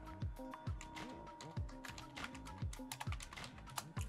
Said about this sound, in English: open up Run by pressing the Windows key and R, and then type in